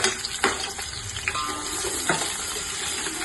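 Sliced onions sizzle steadily in a hot pan for biryani, a close, continuous hiss with occasional clinks and stirring scrapes, and no talking.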